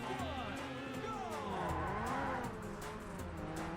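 Engines roar and tires squeal in the racing video game Burnout, with steady engine drone and warbling pitch sweeps as cars race, while a voice talks faintly underneath.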